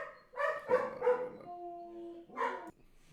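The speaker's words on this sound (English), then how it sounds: "my dogs are barking" Several dogs bark in short bursts close by, a cluster of sharp yips followed by a drawn-out whine and one more bark.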